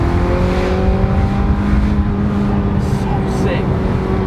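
A Ferrari 355 engine at high rpm past about 6,000, a loud steady howling tone heard from inside the car with constant road and wind noise beneath.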